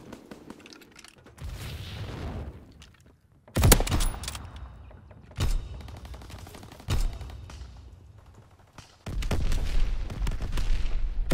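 A grenade explodes in Call of Duty WWII amid battlefield gunfire, with several heavy booms and sharp cracks standing out against a continuous rumble of distant shooting.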